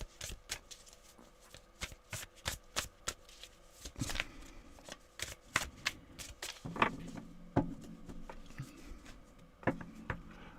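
Tarot cards are shuffled and cut close up, a quick run of crisp riffling snaps and taps followed by scattered softer card slaps, quiet and without talk.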